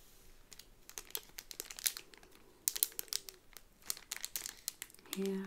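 Close, soft crinkling of plastic packaging around a Disney pin, irregular crackles and rustles that swell and fade, quiet and intimate, with a brief low murmur of voice near the end.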